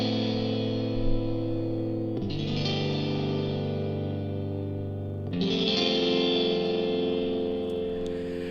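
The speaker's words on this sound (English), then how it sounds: "Ice Tomb. Obviously guitar, but very, very processed." Ice Tomb, a very processed guitar preset from UJAM Virtual Guitarist Cinedream, plays as long, washy sustained chords with chorus-like shimmer and distortion. It shifts to new chords twice and stays steady and moderately loud throughout, with no voices.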